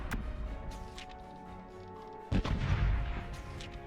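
Ship cannons fire in the naval video game Corsairs Legacy, with a heavy boom partway through over a continuous battle rumble and game ambience.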